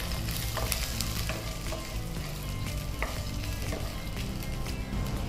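Ginger and garlic sizzling and frying in hot oil in a pan with occasional stirring scrapes, a steady close crackle throughout with no talking.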